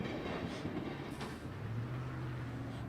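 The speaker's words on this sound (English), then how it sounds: "you have a long, long train, as you see go through here" A long freight train rolls past at a rail crossing in Wyoming County, a steady loud rumble with rhythmic wheel clatter filling the whole stretch, heard alone without voices.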